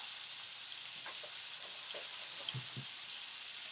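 Shrimp and mushrooms sauté in a pan for a quinoa risotto, giving a steady, close sizzle with a bright hiss throughout and a few soft stirring knocks near the end; no one speaks.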